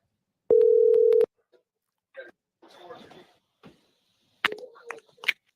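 Telephone tone sounds once as a caller is dialed back during a live audio chat room show, a loud steady beep alone, followed by short clicks, brief voice sounds and other tones.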